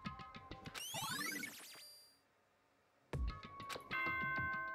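A doorbell-style chime sounds in Danganronpa: Trigger Happy Havoc, a bright electronic melody of ringing notes, then a brief near-silence before another chiming melodic phrase returns, loud and unaccompanied by voices.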